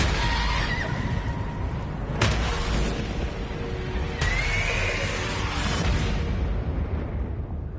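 A horse whinnies in Ghost of Tsushima, its neigh rising over loud rumbling booms and dense game effects, with no talking.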